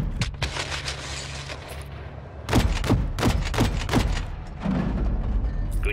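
Rapid bursts of gunfire and heavy thuds in the Call of Duty: Modern Warfare II video game, a dense fusillade of sharp shots over rumbling battle noise, loud and close.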